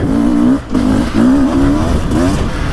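A 2024 Beta 300 Race Edition two-stroke dirt bike on a woods loop, its engine buzzing loud and close, revving up and down with brief dips as the throttle is chopped between pulls, and a rider's voice faintly under the engine.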